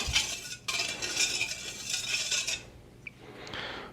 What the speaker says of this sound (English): And then we're just gonna gently whisk it together.